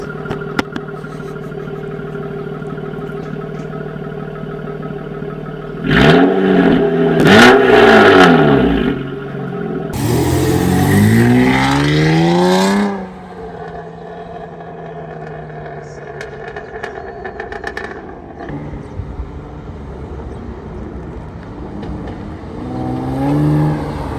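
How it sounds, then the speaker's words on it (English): An Acura TL Type-S engine revs, with a loud rising-and-falling roar swelling in two bursts mid-clip over a steady idle hum, while a person talks. "this car sounds amazing"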